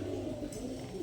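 Asmani Rajgolla pigeons cooing softly in a low, rolling murmur, faint and steady against a quiet background with no clear speech.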